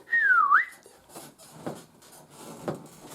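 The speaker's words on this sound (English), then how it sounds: "Then you put a slide whistle." A slide whistle plays within a song, sweeping down and then up in one clear gliding note near the start, before the music drops back to a quieter, busier background.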